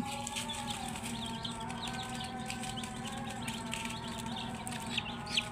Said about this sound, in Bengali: এটা হচ্ছে আমার কিছু শৌখিন ফ্যান্সি মুরগি আলাদা করে রাখা হয়েছে